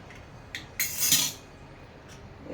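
Two eggs beaten in a bowl with a fork or whisk: a few sharp metallic clinks, then a brief burst of rapid scraping strokes against the bowl, fairly close and with no talking.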